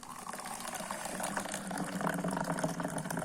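Hot tea is poured at a mountain hut in the Lagorai range, a steady, moderately loud liquid stream that gurgles close by and grows slightly fuller as it goes, with no talking.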